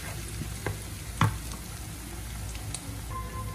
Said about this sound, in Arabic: غنحرك هادشي مزيان نعطيه الوقت ديالو